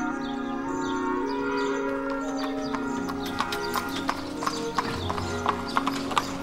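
Lipizzaner white horses of the Spanish Riding School of Vienna at the Piber stud farm in southern Austria clop their hooves in a steady, fairly close rhythm, and a whinny carries over faint background sound.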